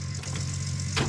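A vehicle engine in the video game Gold Rush idles with a steady low continuous hum, with a brief brighter swell near the end.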